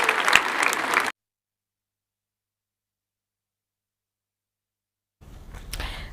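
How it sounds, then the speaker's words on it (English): Audience applause for teachers at a school gathering in Kasese district, Uganda, a short burst of clapping for about a second before cutting to silence, then softer crowd noise returning near the end. "I want you to clap for our teachers."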